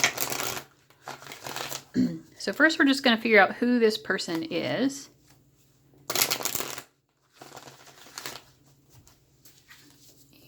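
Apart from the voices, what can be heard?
shuffling a card deck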